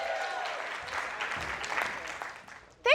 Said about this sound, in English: Give Michelle a round of applause.